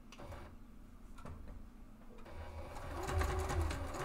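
A sewing machine runs slowly, back-stitching to reinforce a bag handle on the machine deck, its soft mechanical ticking and whirring building louder toward the end with no talk over it.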